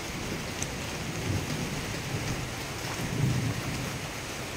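Light drizzling rain falls over the outdoor seating of a glamping cabin and cafe in Rahong, Pangalengan, Bandung, a steady broadband patter with a low rumbling undertone throughout and no voices.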